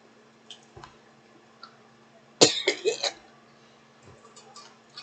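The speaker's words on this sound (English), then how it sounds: "So that's kind of why we're coughing." Several coughs burst out close together, loud and harsh, in a room where people have been sitting together, following a few faint clicks and small sounds in an otherwise quiet space.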